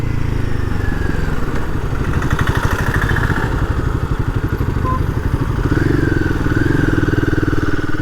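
A Royal Enfield Himalayan 450 motorcycle is ridden and eased off, its engine a steady, close, throbbing drone that shifts as the throttle changes.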